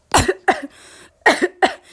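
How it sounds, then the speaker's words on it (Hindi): Someone coughs in two quick pairs of sharp, loud bursts, each pair followed by a short raspy tail, with a brief pause between the pairs, heard close and with no talking. "उसके बाद आता है साउंड ऑफ समवन कफिंग"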